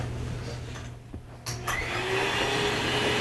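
A Tristar vacuum cleaner runs in a home, a continuous motor drone that dips briefly with a couple of sharp bumps midway, then surges back to a steady, louder whine.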